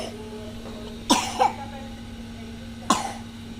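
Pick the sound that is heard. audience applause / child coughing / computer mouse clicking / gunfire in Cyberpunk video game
child coughing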